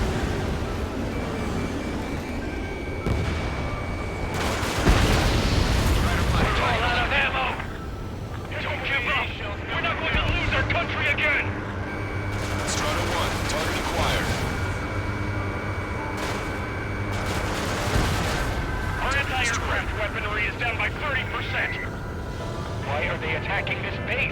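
Missile launches and explosions in the video game Ace Combat 7 roar over constant jet engine noise, with several heavy bursts spread through the scene while radio voices talk over the action.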